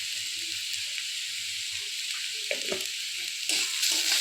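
Carrots frying in a pan with a little oil, giving a steady, bright sizzle throughout, with a couple of stirring scrapes partway through and the hiss swelling louder near the end, no one talking.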